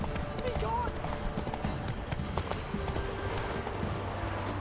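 Hooves of Roach, a horse in the video game The Witcher 3, clop in a steady running rhythm under continuous game ambience and background voices.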